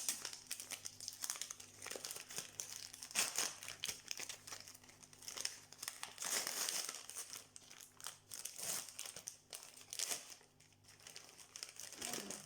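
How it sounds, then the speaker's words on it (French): A paper gift pouch is opened by hand, giving a close, continuous crinkling and rustling of paper with sharper crackles throughout, and no talking. "Voici la pochette du numéro 6. On va ouvrir."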